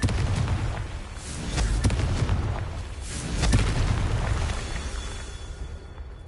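Confringo fire spell blasts in the Hogwarts Legacy video game on PS5, a series of deep booming explosions with sharp bursts rumbling over a continuous low roar, loud and sustained throughout.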